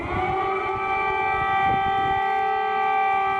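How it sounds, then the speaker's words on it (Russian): An air raid siren wails steadily and loudly from start to finish, with its tones holding level and no one speaking. "Вы спрашивали, как мы реагируем на сирену"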